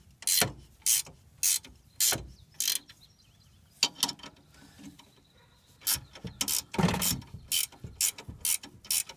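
A ratchet wrench tightening bolts on leaf spring helpers, with bursts of rapid clicking ratchet strokes separated by short pauses, close and loud, no talk.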